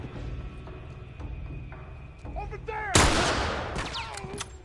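Rifle fire in the survival game The Last of Us: a single sharp, loud shot with a ringing tail, preceded by quieter game sounds and faint clicks.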